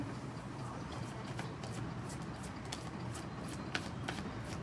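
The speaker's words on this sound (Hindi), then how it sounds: "तो पहले मैं सारे कार्ड्स शफल करके पिक आउट करूँगी" Tarot cards are shuffled close by in a quiet room, giving a soft, steady papery riffle with a few sharper flicks and taps scattered throughout.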